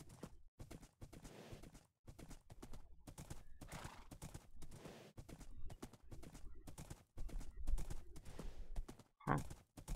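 Steady clip-clop of horse hooves ridden along a road in the video game Dungeon Realms, a regular near rhythm with brief gaps, plus a faint whinny near the end.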